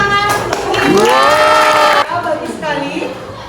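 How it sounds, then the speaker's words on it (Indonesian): Children in a classroom cheer and shout together in a loud, close burst of voices that fades to scattered chatter, with little distinct clapping. "Kasih tepuk tangan."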